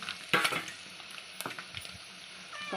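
Egg sizzles gently in a pan while a spoon stirs and scrapes, sharp clatters standing out over a soft, quiet frying hiss.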